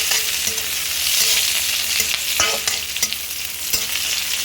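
Red and green chilies fry in a pan for Kerala-style inji puli, a loud close crackling sizzle with bursts of stirring and spoon scrapes against the pan.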